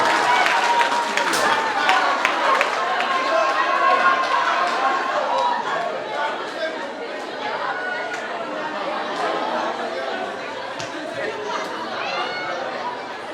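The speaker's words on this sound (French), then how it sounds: "Applaudissez encore une fois pour Abdoulaye Ndiaye, s'il vous plaît." A crowd at a rap conference claps and cheers amid lively chatter, the applause strongest at first and then settling into a steady murmur of voices.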